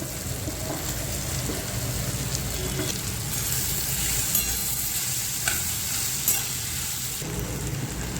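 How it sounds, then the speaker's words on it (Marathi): Okra tumbling into a hot pan of spiced vegetable curry and being stirred, a steady loud sizzle with scraping spoon strokes and occasional sharper clinks throughout, no voices. "आता मी भेंडे टाकत आहे"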